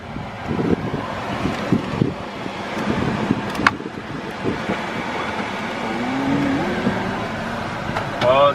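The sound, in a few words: new car driving on road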